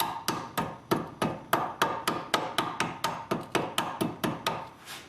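Hammer taps, about eighteen evenly spaced sharp strikes, seat a suspension clamp onto a Nissan 240SX S13/S14 part, close, loud and alone with no talk.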